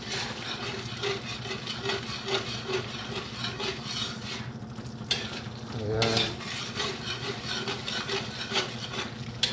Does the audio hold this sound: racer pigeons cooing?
no